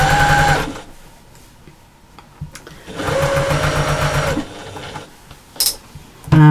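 A domestic sewing machine stitches around the edge of a slouchy fabric bag in close, loud bursts, running in steady whirring stretches that stop and restart with brief pauses between.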